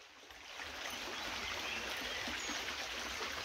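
Shallow water flows and trickles around bare feet in a steady, gentle stream, soft and close with a constant babble and no talking.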